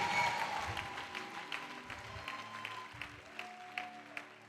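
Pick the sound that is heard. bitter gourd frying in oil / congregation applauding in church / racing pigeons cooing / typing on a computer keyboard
congregation applauding in church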